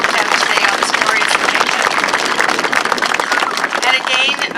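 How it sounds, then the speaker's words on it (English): Crowd applause at an air cadet squadron opening ceremony in Bradford, Ontario, dense continuous clapping with a few voices mixed in, holding steady throughout. "So a big applause for everybody who has helped out today"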